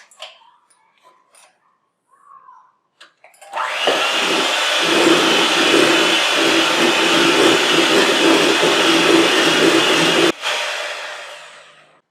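Electric mixer beating sifted dry ingredients into an egg mixture for low sodium zucchini bread, a steady close whir that starts after a few soft knocks, runs about seven seconds, then stops.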